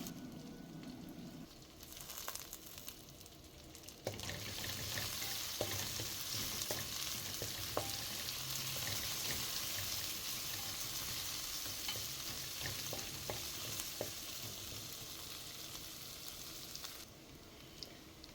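Crushed shallots and garlic sautéing in a pan with curry leaves while a Kerala jackfruit poriyal is cooked, a loud continuous sizzle with scattered spoon scrapes and clicks through most of the stretch, no talk.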